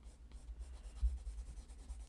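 A watercolor pencil scratches and rubs across paper in short, quiet strokes, close up with no talk.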